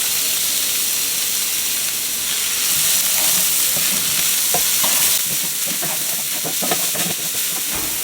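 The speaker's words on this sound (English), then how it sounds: "We're gonna saute our shallots." Shallots and garlic sauté in oil in a pan on medium heat, a loud steady sizzle and hiss with a few stirring scrapes and clicks toward the end, no talking.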